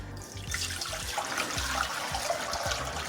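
Water pours steadily into a garden sprayer tank, a continuous splashing, gurgling rush that stays close and fairly loud throughout with no voices.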